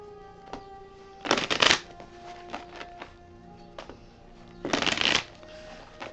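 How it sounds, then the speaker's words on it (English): A deck of tarot cards is shuffled in two quick, crisp riffle bursts, one early and one near the end, with faint card taps and handling between them in an otherwise quiet room. "cards being shuffled. It's part of the reading."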